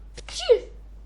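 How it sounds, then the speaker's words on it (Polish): A single short sneeze bursts out after a brief breathy build-up, close and fairly loud, with silence after. "mogę kichnąć i wysadzić"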